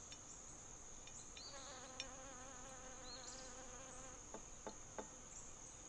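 Bees buzz close by around a plate of syrup, a wavering drone rising and falling as they hover, with a few faint taps and clicks in the background.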